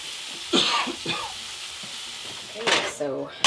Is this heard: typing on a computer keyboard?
no